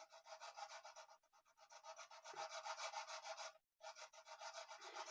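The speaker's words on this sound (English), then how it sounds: "This is a .046 Music Nomad nut file, and I cannot get it into the groove of this" A Music Nomad .046 nut file rasps back and forth in the slot of a plastic guitar nut, a steady run of close, scratchy strokes with one short pause before the filing starts again.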